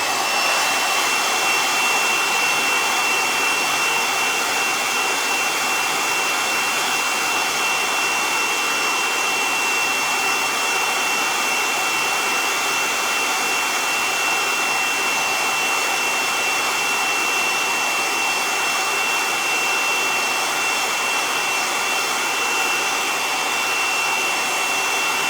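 A dryer blows a steady, loud rush of air over the painted ears of an Easter bunny decoration, running continuously without a break and with no talking.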